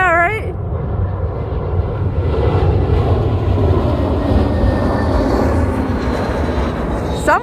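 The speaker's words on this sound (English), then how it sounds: "We're all gonna stop and watch this plane come in." A plane comes in to land over Fort Mifflin with a loud, steady roar that swells and holds for several seconds, and people can be heard nearby.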